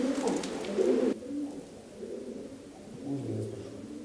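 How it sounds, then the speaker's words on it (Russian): Inside an old 19th-century manor, a pigeon gives soft, low cooing calls, a loud burst first, then quieter coos recurring close by in an otherwise hushed room. "Вот это вот голубь, до этого не было."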